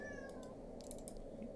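A cat meows faintly and briefly in a quiet room, with a few soft keyboard-typing clicks nearby.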